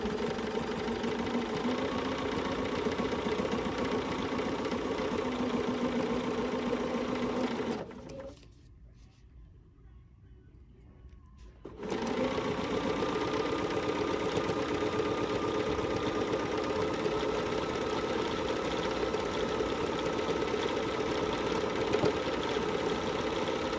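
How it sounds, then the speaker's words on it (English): An embroidery sewing machine with its presser foot lowered stitches in a steady fast mechanical whir, pausing briefly for a few seconds midway before resuming at the same even pace, close and moderately loud. "now I'm just going to lower my presser foot, and now I'm just going to stitch,"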